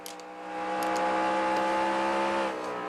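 Race cars roar past in the NASCAR Racing 2003 video game, a steady loud engine drone with tonal whine that swells and holds near for about three seconds, no talking.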